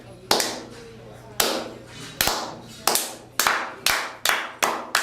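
One person claps hands about eight times in a slow, steady beat with a ringing echo after each clap, mimicking how wrestling fans clap at every match.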